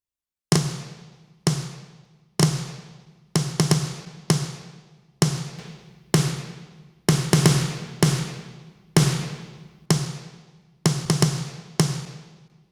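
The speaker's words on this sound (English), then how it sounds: "Here's with and without the EQ, and then with the EQ again." Snare drum hits in a live drum mix, alternating between equalized with boosted low end and unprocessed, each sharp crack ringing briefly with a steady roughly one-second spacing, about a dozen strikes alone and fairly loud.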